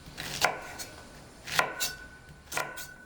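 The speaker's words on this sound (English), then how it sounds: "Let's take a quick deep dive while I'm chopping up the okra." Knife chopping okra on a cutting board, three main chops spaced about a second apart with lighter taps between, quiet and close with no talking.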